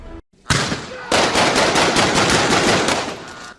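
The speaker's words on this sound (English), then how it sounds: "Listen, gunfire coming from the roof across the way." Rapid gunfire from a rooftop across the way, a sustained loud burst of machine-gun-like shots after a brief opening blast.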